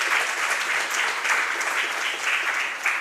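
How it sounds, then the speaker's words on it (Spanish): A church group claps together in strong, continuous applause from a room full of people, dense and even throughout with no talk over it. "Vamos a dar un fuerte aplauso a nosotros mismos"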